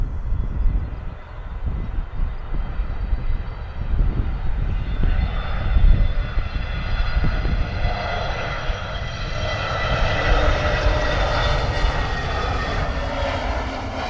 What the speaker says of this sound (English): A320 coming in from Belfast.